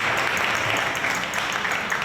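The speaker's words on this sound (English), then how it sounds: "round of applause for Elizabeth" Audience applause for Elizabeth at a Tavern Trail talk on the Wurtembergers of historic Red Hook, a steady dense burst of clapping filling the room for about two seconds with no one speaking over it.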